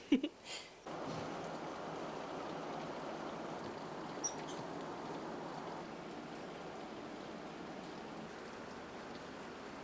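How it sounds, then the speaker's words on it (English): Steady heavy rain pours down continuously, a dense broadband hiss, after a few brief bumps at the start. "It really is pouring."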